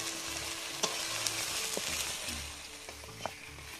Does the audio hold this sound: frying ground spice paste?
yes